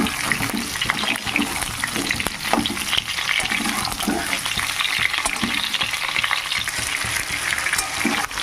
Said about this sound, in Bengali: পটলগুলোকে শুধু তেলে খুব সুন্দর করে ভেজে নিতে হবে তেলে একদম নরম করে ভেজে নিতে